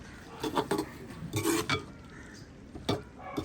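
A metal lid clinks and scrapes onto a cooking pot of green bitter gourd curry, with a few clattering knocks of cookware close by and no talking.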